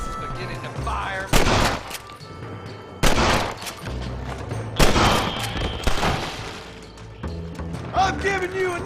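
Gunfire in Red Dead Redemption rings out as several heavy, booming shots spaced a couple of seconds apart, each trailing a short echo, over a dense game soundscape with a voice briefly heard.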